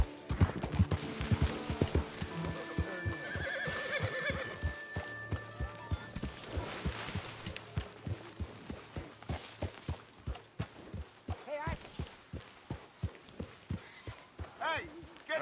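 Horse hooves clip-clopping at a steady walking pace in a PS4 game, fairly quiet, with people talking over parts of the sequence.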